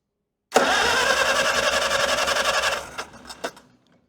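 A 1947 Farmall H tractor engine, on a cold day below 30 degrees, cranks and catches abruptly, runs loudly and steadily for about two seconds, then sputters with a few uneven coughs and dies down.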